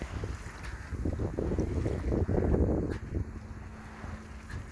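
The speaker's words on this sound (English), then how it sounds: "tacking into the wind, I'll be jibing back the other way" A sailboat tacking back and forth on Richardson Bay in the evening: steady wind buffeting the microphone over a rushing wash of water along the hull, continuous and fairly close, with no talking.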